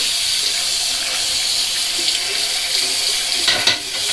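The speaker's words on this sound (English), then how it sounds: "Get a cloth here, get some cold water on it." Cold water runs steadily from a tap onto a cloth, a close, loud, continuous hiss and splash with no talking.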